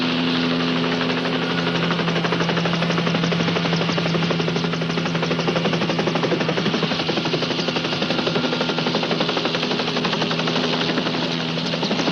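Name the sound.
helicopter flying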